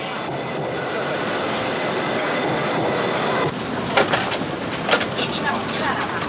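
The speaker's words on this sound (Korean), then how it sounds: "난징행 고속열차가 들어온다." A loud, steady rush of a high-speed train pulling into a station in Suzhou, China, broad rumbling roar with rattling clatter and squeals, voices faintly audible beneath it.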